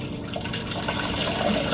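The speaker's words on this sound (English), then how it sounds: "then we are just filling up the tank again with the sterile water" Sterile water runs steadily into the 20-litre tank of a Maquet HCU 40 heater-cooler during disinfection rinsing, a continuous close filling sound with no talk.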